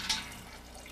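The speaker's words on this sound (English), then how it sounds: "Extra water in Thomas's boiler will stop him feeling too hot." Water splashes briefly into the boiler of a toy steam train engine: one quick close pour at the start, then soft dripping trickle fading under low background hum.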